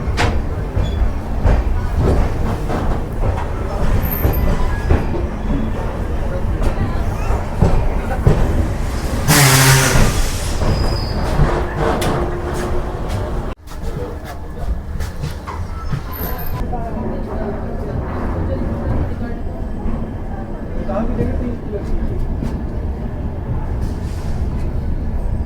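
The 12926 Paschim Express passenger train runs after departing Chandigarh, a loud continuous rumble and rattle of wheels and carriage heard from inside, with a sudden burst of noise midway and a brief drop before the roar resumes.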